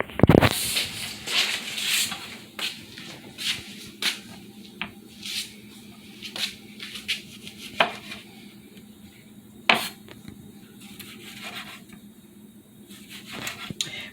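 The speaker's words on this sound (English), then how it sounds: "We are dicing the tomatoes," A knife dices tomatoes on a cutting board for a cucumber, tomato and red-onion salad. It gives quiet, irregular taps and knocks, close by, with light handling noises between the cuts.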